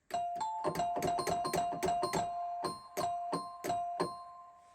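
A bright, bell-like glockenspiel solo voice on a Technics AX7 electronic keyboard plays a quick run of single notes, then slower separate strikes, each ringing briefly and clearly.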